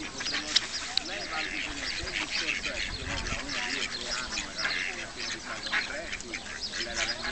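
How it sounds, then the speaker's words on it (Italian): Mallard ducks quacking at a pond or marshy spot, a busy run of overlapping quacks and honks from several birds throughout, moderately near, over a faint background. "Le anatre germanate si trovano anche in posti acquitrinosi, stagni."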